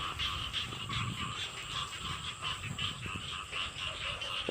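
Many frogs croaking together in a dense, pulsing chorus, loud and continuous with no talking.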